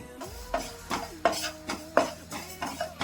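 Cumin seeds dry roasting in a pan for bele saaru, with a regular series of stirring scrapes and light metal clinks against the pan, close and clear, no talking.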